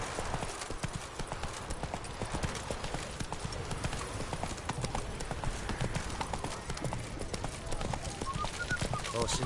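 Hooves of the horse Roach gallop in The Witcher 3, a steady rapid clip-clop throughout, loud and close, with game ambience and a faint voice in the background.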